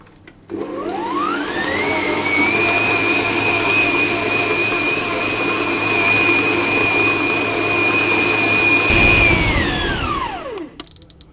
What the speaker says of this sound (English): Now I'll continue to mix the dough.